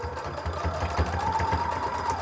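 A sewing machine stitching elastic onto a fabric face mask, a steady fast mechanical whir with a regular needle rhythm, close and continuous throughout.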